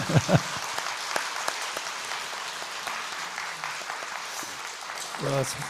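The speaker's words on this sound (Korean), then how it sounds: "박수 한번 쳐줘요" A church congregation clapping, a steady patter of applause with a voice briefly heard at the start and end.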